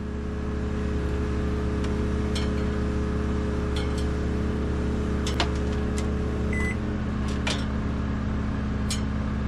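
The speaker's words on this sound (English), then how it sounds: "Okay, the microwave is running." Microwave oven running on a WEN portable generator alongside an air conditioner and heater: a steady, loud electrical hum with low drone layers throughout, plus a few faint clicks and clinks, no talking.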